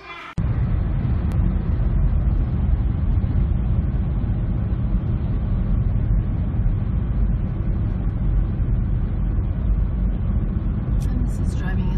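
Steady low road rumble from a car cruising on the Pennsylvania Turnpike near a highway exit, a continuous broadband drone heard from inside the vehicle with no pauses throughout.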